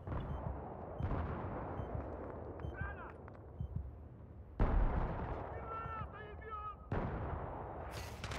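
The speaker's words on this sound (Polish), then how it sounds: "Amunicja wybuchowa, czy jak to się zwie?" Explosive-ammunition gunfire in an online multiplayer shooter, heard as several loud, broadband bursts in separate clusters, with quieter game noise and sporadic talk in between.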